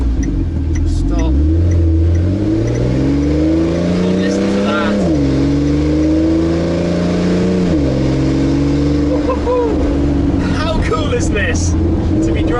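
A powerful W Motors supercar engine revs up through rising gears, its pitch climbing and dropping with each shift, loud and close, with brief voices near the end.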